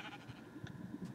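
A sheep bleats in a video game, a short, quiet call set among faint game sounds with no talking.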